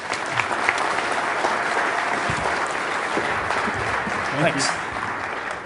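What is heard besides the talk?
audience applause welcoming a speaker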